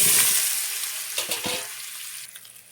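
Fish sizzling as it fries in pangas fish oil, a broad steady hiss with occasional spitting crackles, close and fairly loud at first, then easing slightly.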